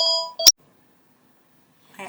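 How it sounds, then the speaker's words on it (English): Indoors, a phone gives a brief electronic ring, a short tonal chime lasting under half a second, cut off by a sharp click, then near silence before a faint sound at the end. "I am sorry, phone ringing."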